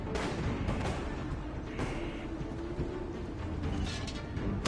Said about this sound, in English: But as you can see, in comes the artillery.